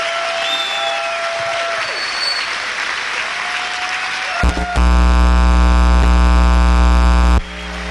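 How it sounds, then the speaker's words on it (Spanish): A church congregation claps loudly with cheering voices mixed in. Partway through, a harsh, steady buzzing hum abruptly takes over for a few seconds and then drops away. "Dale un fuerte aplauso a Cristo mientras pasa el pastor José Torres."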